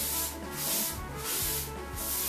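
A cloth rubs back and forth across a butcher block countertop in three smooth, broad hissing strokes, close and moderately loud, with no talking.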